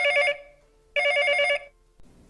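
A telephone bell rings in two loud, close bursts separated by a short pause, with the start of a third cut off at the end.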